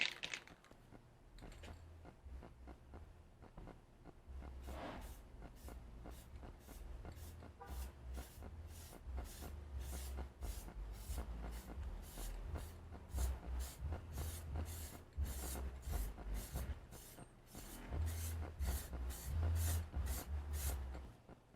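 Aerosol interior dye sprayed onto the interior of a 1984 Fox-body Mustang convertible, heard as repeated short hissing bursts in a steady rhythm, close and fairly loud, over low background rumble.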